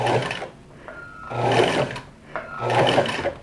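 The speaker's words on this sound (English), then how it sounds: "I'm going to start sewing here" A sewing machine stitches a shirt collar band made from a bed sheet in two steady bursts with a short pause between them, running close and clear with no talk over it.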